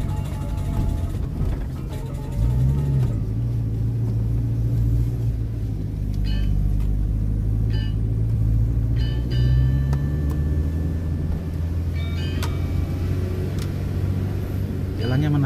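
A car climbing a hill in second gear on a road between Kintamani and Tegalalang, a loud steady engine drone with rising and falling revs, close inside the cabin, with a few faint beeps over it.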